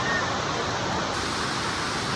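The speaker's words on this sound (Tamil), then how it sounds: "தண்ணி போகுது பாருங்கள்" Vattakanal waterfall near Kodaikanal in cold weather, a steady broadband rush of flowing water heard continuously at moderate loudness with no clear voices over it.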